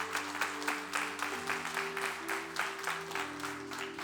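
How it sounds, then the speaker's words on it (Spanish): A church congregation applauds together, steady rhythmic clapping in unison with regular beats, a held tone underneath, moderately near. "darle un aplauso al Señor por sus vidas"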